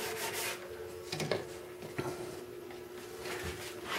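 Fine 0000 steel wool rubs across the leatherette surface of a Gerstner box, giving a soft, continuous scratchy rasp at close range with a couple of brief, firmer strokes.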